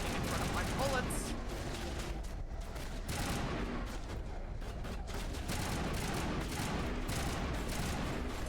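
Sustained gunfire from a Mass Effect Legendary Edition battle rattles steadily for several seconds, dense and continuous with bursts of sharper shots, while a voice talks over the combat.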